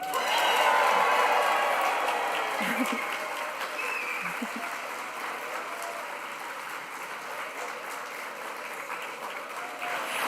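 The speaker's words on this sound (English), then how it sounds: "let's all give a big cheer for the graduating class of 2025" A graduation audience for the Nursing and Midwifery and Psychology classes of 2025 claps and cheers loudly in a large hall. The dense applause peaks early and then settles into a steadier, slightly quieter ovation that continues throughout.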